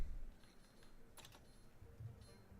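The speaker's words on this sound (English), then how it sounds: "for some reason I need to do things with keyboard and mouse" Soft, quiet clicking of keys on a computer keyboard while playing a PC game, a few scattered taps with a brief quicker cluster in the middle, faint and close.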